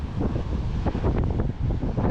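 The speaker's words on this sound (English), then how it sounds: "These waves are of biblical proportions out here" Big North Sea waves roar against the Scottish coast while wind buffets the microphone, a dense, continuous, loud rumble and wash with no speech.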